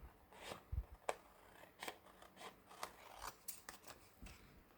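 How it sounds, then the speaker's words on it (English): Scissors fussy cut around the shapes of decorative paper, a string of close, quiet snips and soft rasping cuts in an uneven rhythm. "I always do when I cut, when I fussy cut."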